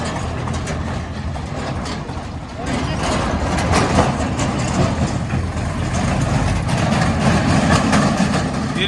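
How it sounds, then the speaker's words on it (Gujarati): A tractor idles near a demolition site at Somnath Patan, a loud, continuous low engine rumble that grows slightly stronger partway through, with people talking over it. "આપણો ટ્રેક્ટર આવી ગયો એક લાઇટ વાળું"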